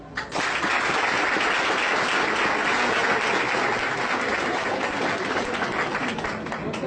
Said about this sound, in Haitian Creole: je vous demande de bien vouloir l'applaudir